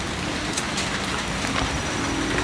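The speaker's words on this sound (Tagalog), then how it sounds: "Ulan naman." Rain falls at night in a cemetery as a steady, even wash of broadband patter, moderately loud and continuous with no voices.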